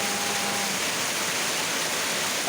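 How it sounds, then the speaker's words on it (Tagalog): Heavy rain pours steadily onto outdoor concrete stairs by a house in Silang, Cavite, a dense, unbroken wash of water close to the listener with no talking. "Malakas po ang ulan dito na Silang, Cavite ngayon."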